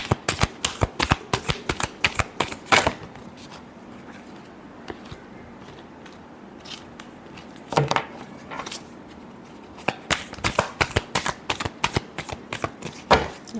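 Tarot cards shuffled by hand in repeated quick bursts of riffling snaps, dense flurries separated by brief quieter pauses, close and fairly loud with no voices.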